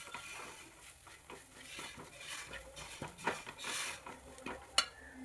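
Chili powder and turmeric sautéing with egg curry masala in a pan: a spoon clinks and scrapes against metal in irregular strokes over a faint, steady sizzle, close and fairly quiet.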